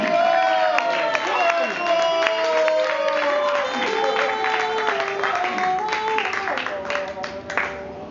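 A studio crowd claps and cheers loudly and steadily for a performer at a comedy show, with music and voices running under the applause throughout.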